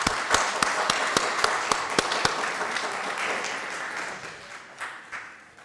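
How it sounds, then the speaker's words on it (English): A small group applauds at a college district board of trustees meeting, with distinct sharp claps early on that thin out and fade toward the end. "let's give a big round of applause"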